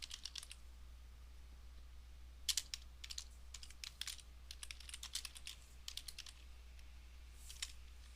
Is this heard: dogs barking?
no